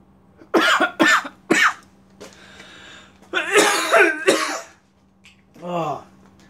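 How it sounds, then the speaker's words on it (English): Several sharp, harsh coughs in quick succession, then a longer noisy coughing fit and a final rasping cough, close and loud. "I don't understand why I'm coughing"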